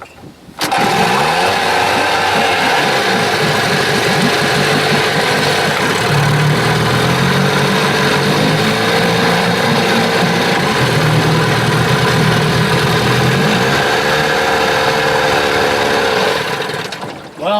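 A 1971 20 hp Johnson outboard motor starts and runs for about sixteen seconds, a loud close mechanical drone with throttle changes, then cuts off.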